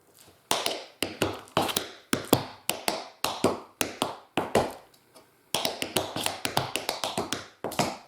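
Tap shoes strike a hard floor in quick riffs, crisp metallic clicks in grouped bursts with brief gaps, close and loud, without talk.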